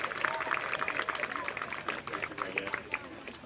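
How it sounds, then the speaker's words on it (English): Applause and scattered cheers rise from a crowd honoring youth softball all-star players at a 10U doubleheader, a steady patter of clapping with chatter and voices mixed in. "Let's give those ladies a round of applause."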